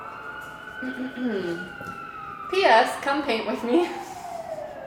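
Emergency vehicle sirens wail outside, a gliding, falling tone sustained at moderate distance while a person talks over it.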